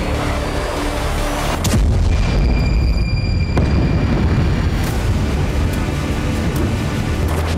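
Israeli airstrike explosions in Lebanon, heavy booming blasts with a sharp crack near the start, a rumbling low roar throughout and further thuds and pops later, loud and close.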